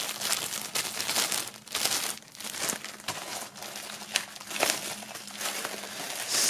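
Plastic foil wrapping is crinkled and peeled away from merchandise from a music box set, close crackling and rustling bursts that come in uneven handfuls with short pauses, and no voices.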